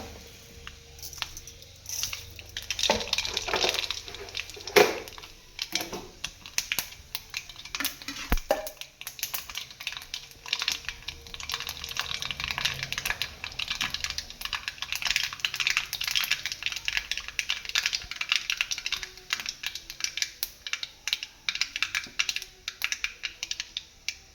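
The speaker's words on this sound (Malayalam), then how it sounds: "ഉലുവ പൊട്ടി കഴിയുമ്പോൾ കടുകിട്ട് കൊടുക്കാം" Mustard seeds spluttering in a pan, added after fenugreek while tempering for a fish curry: dense, irregular crackling pops run steadily through the whole stretch, close and fairly loud, with no one talking.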